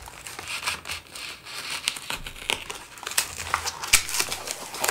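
Plastic and cardboard packaging of a NERF Rough Cut 2x4 blaster being torn open, a continuous close crinkling and crackling with sharper ripping peaks toward the end, no speech.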